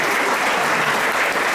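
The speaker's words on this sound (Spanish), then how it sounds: "para quien también pido un fuerte aplauso" A crowd at a municipal cultural symposium applauds, a dense, continuous burst of clapping that is loud and even throughout the short stretch.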